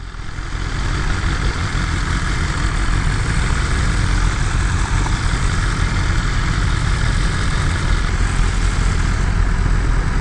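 Steady, low rumbling motorcycle engine idling with a stock exhaust at a constant level for several seconds, fairly loud and close, with a mild, muffled exhaust tone.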